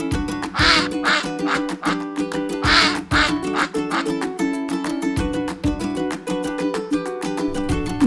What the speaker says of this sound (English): A duck says quack